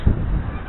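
A single short, harsh honking call from a duck, heard close and loud.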